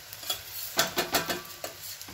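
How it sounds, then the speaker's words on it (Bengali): An egg paratha fries in oil in a pan, with a soft sizzle and a series of light spatula scrapes and taps at an uneven pace. "ভেজে নিচ্ছি"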